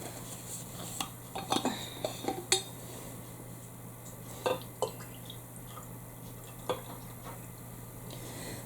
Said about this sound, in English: I need to pour some more tea.